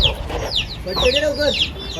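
Chickens cluck and chirp close by in short bursts over a low rumble, with muffled voices faintly mixed in.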